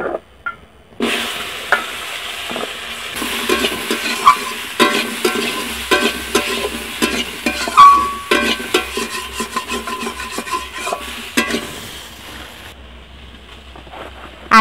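Potatoes and pointed gourd are stirred and fried in a wok, giving a scraping, rasping stir with soft sizzling that comes in repeated strokes, loud and close, with no talk.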